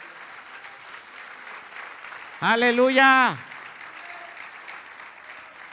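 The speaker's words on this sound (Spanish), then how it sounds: "¿Cuántos le dan un aplauso al Señor Jesús?" A church congregation breaks into a short burst of applause lasting about a second, with a voice shouting over it and lower crowd murmur before and after.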